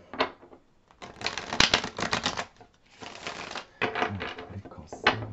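Tarot cards being shuffled by hand, close up and fairly soft: several quick riffling, clattering bursts separated by short pauses.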